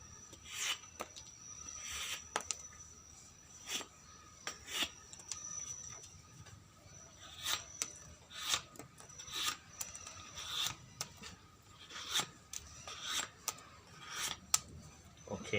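Chef knife slicing through thick paper, a run of crisp rasping cuts in irregular strokes, some quick and clustered, others spaced apart, close and clear with no voices.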